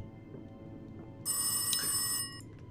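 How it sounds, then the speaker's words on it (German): A telephone rings in the horror video game Rise of Insanity, a bright, steady electronic ring that starts partway through and holds for about a second before cutting off, heard alone over a low ambient drone. "Das Telefon klingelt."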